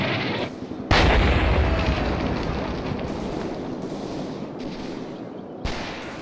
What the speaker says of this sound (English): His 80mm mortar rounds are a lot more deadly than my 50s.